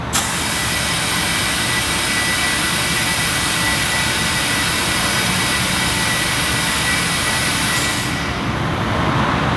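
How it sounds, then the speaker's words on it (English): Compressed CO2 from a Power Tank rushes through a Speedflate system into four 38-inch tires, a loud steady hiss holding for about eight seconds before dropping off. "we went from 15 psi to 30 in under a minute on 38-inch tall tires with the Power Tank"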